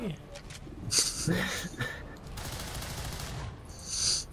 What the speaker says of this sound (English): Just hear a gunshot go off.